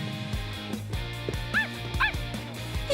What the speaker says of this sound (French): Je suis sûre d'avoir entendu aboyer